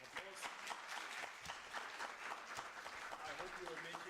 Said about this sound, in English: let's give again another loud round of applause